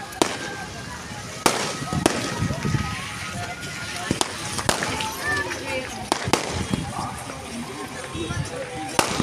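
Fireworks and firecrackers burst at a Chhath Puja celebration beside the Toorsa River in Jaigaon, with sharp scattered bangs at irregular intervals over steady crowd chatter and nearby talking.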